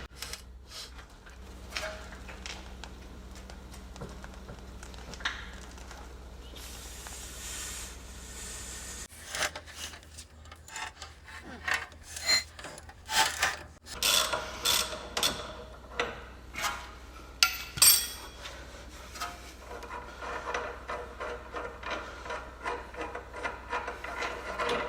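A long socket wrench works a front suspension bolt loose on a Jaguar S-Type, making dry rubbing and scraping that breaks into a run of sharp, irregular metallic clicks and knocks, close and fairly quiet, with no talking.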